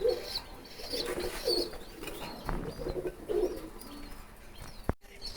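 Soft, low pigeon coos repeat in gentle rhythmic phrases nearby, with a few light rustles and a sharp knock near the end.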